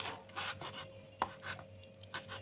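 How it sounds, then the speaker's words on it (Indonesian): Boiled banana blossom is cut into small pieces with a knife, producing soft rubbing slices and a few light taps on a board, quiet and close, with no talking. "sudah saya rebus sebentar saya mau potong kecil-kecil"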